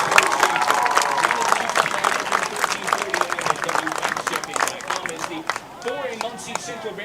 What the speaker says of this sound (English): Let's give a big Tiger round of applause for our 2020 and 21 cheerleaders